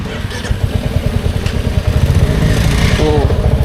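A motorcycle engine chugs close by in rapid rhythmic pulses on a hillside road near Bethanchowk, revving slightly louder partway through, with voices over it.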